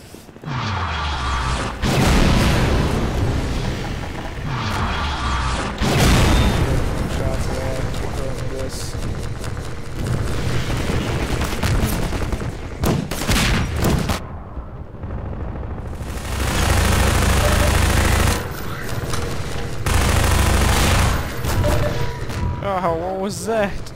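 A grenade explosion and gunfire in the Half-Life 2 game on hard difficulty: dense, loud bursts of shots and crashing blasts carry on almost continuously, with a short quieter gap midway.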